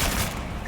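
A Bombarda blasting spell from the Hogwarts Legacy video game, a brief, dense, roaring burst that fills the whole short moment loudly and close up.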